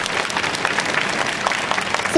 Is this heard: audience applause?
yes